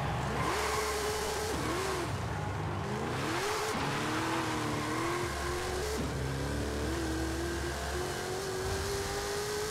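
A turbocharged street-racing car accelerates hard, engine pitch climbing and dropping through several gear changes with tire noise underneath, loud and close throughout.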